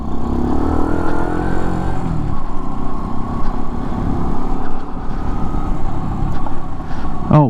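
A 2015 Skyteam Skymax 125 monkey bike runs loud and close, its engine note falling as it slows to pull over, then settling into a steady lower drone with wind rumble.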